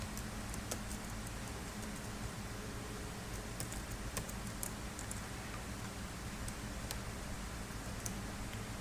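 Steady typing on a computer keyboard while entering text into spreadsheet cells, a run of light key clicks under a constant background hiss.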